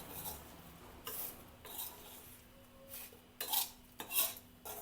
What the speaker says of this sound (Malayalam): ഇനി ഇത് നല്ലതുപോലെ ഇതിനകത്ത് കുറേ നേരം ഇളക്കണം.